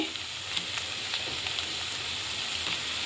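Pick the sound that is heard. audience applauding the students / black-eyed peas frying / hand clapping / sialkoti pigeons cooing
black-eyed peas frying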